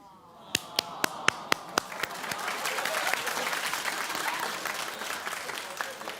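A studio audience on a daytime talk show breaks into applause: a handful of sharp, separate claps ring out first, then a broad wash of clapping from many hands swells and holds.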